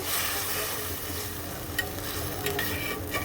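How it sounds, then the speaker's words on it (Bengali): Fried magur fish pieces going into a simmering onion gravy, giving a steady soft sizzle and bubbling with a few brief clinks and scrapes of a utensil. "এখন আমি ভেজে রাখা মাছগুলি দিয়ে দিলাম"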